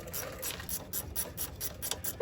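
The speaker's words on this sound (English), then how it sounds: "I'm going to loosen the bolt on the sway bar end link." A hand ratchet clicks steadily in quick, even strokes while loosening the sway bar end link bolt on a 2007 GMC Sierra, close and clear with no talk.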